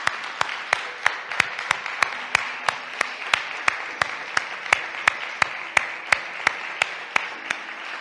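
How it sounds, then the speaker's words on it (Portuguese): A church congregation claps in a steady, regular rhythm, sharp evenly spaced claps repeating for several seconds with faint voices beneath. "Párense los que puedan y den un aplauso a ese rey que tenemos maravilloso."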